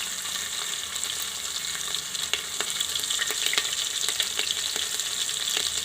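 Ginger and chilies sizzle steadily in hot oil, a continuous bright frying hiss with small pops and occasional stirring scrapes, close and fairly loud with no voices.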